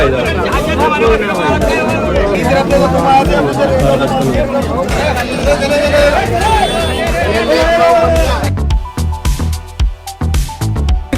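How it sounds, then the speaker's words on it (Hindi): A dense crowd packs the Chor Bazaar market, a continuous wall of overlapping chatter and babble with voices close and far, loud throughout before thinning into sparser, choppier noise near the end. "खतरनाक भीड़ हो रखी है।"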